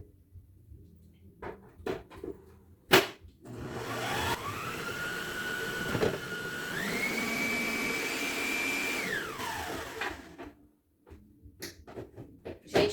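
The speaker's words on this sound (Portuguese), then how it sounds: "Agora, nós vamos bater na batedeira para poder ele dar consistência." An electric stand mixer beats birthday cake batter with a steady motor whine that rises in pitch partway through, running continuously for several seconds, with brief clunks before and after.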